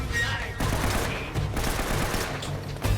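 Rapid automatic gunfire during a shootout in an adventure video game, dense continuous bursts filling the whole moment at close, loud level.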